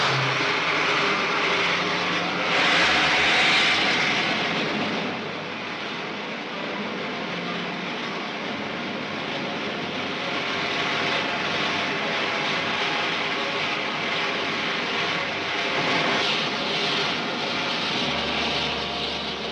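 A rocket ship taking off in a 1953 film serial: a loud, steady roaring engine rush that swells early, then holds as a continuous dense rumble with no talking.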